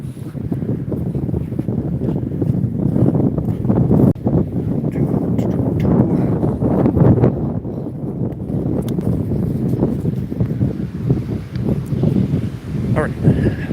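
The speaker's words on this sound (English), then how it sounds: "And that wind continues." Strong wind buffets the microphone during an outdoor walk, a constant roaring rumble with gusty swells and faint rustling, while someone occasionally speaks beneath it.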